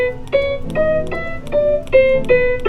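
E melodic minor scale on a pitched instrument, a run of distinct single notes at a steady pace, close and clear, with no voices.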